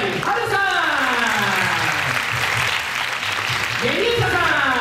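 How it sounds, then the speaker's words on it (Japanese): Crowd at a dance contest final applauding to welcome the judges, a continuous loud wash of clapping throughout while an announcer speaks over it. "大きな拍手でお出迎えください"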